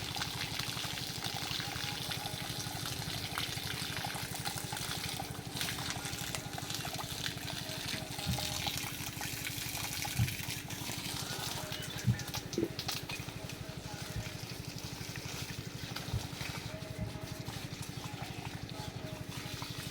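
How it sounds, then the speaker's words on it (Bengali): Water pours and trickles steadily over emus being bathed on a farm, a soft, continuous splashing flow heard at moderate distance with a few faint knocks. "ইমু পাখি গোসল করায় দেই।"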